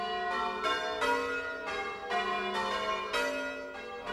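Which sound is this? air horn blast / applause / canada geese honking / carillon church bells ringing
carillon church bells ringing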